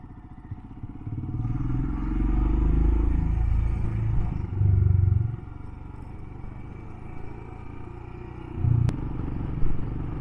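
A Royal Enfield motorcycle rides through villages along a coast road, its steady engine rumble and wind noise swelling and easing as it goes, with occasional clatter.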